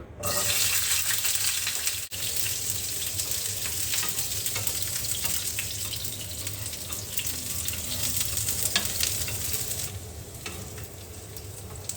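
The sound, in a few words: frying garlic cloves for bhorta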